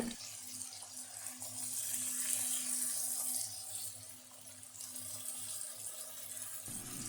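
Water poured into a pan of Kerala-style fish curry made with ground coconut: a steady, close hiss and splash of running water lasting several seconds, with no talking.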